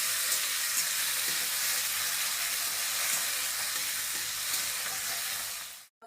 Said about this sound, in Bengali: এবারে টমেটোটা ছাড়ছি, তেলটা গরম হয়ে গেছে।